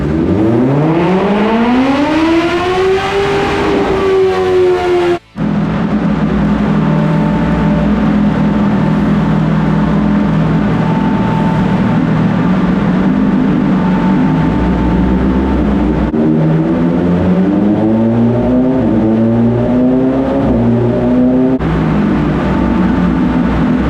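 A 2021 BMW S1000R motorcycle engine runs on a dyno. It sweeps up loudly to a high whine, cuts off sharply, then revs again through repeated rising pulls, roaring steadily and close.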